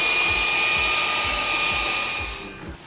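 A Fanttik Apex V10 portable cordless car vacuum cleaner runs with a loud, steady high-pitched whine and airy hiss, then winds down as it switches off near the end.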